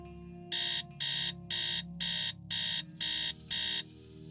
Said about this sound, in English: Does anybody else get like flashbacks just from that alarm sound?